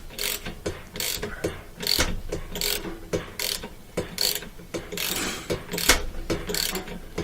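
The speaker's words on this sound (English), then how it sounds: "It kind of holds it while you're spinning that bolt off." A ratchet wrench spins off the rotor bolt on an LG washing machine, giving a fast series of sharp, close mechanical clicks in uneven bursts, with no talk.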